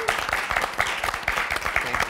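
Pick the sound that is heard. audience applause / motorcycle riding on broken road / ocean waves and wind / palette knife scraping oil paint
audience applause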